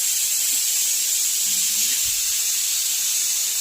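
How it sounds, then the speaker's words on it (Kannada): A pressure cooker whistle releases steam in a loud, continuous, high-pitched hiss that holds steady the whole time, close by, with no pauses. "first cooker ಕೂಗಿದ್ದಕ್ಕೆ"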